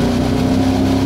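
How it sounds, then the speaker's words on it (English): A Kawasaki Teryx side-by-side revs its engine in a big mud hole, a loud, close, steady drone with no break across the short clip. "Give us some gas, Collier."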